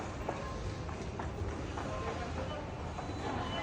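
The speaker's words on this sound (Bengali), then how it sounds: "এই যে হয়তো মেট্রো চলে আসছে" A metro train pulling into a station, a steady rumbling roar with faint clatter under busy platform ambience, voices murmuring nearby.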